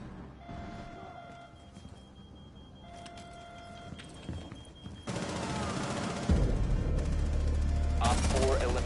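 Gunfire in Rainbow Six Siege on PS4, bursts of shots that grow louder and denser toward the end amid other game noise, with some voices.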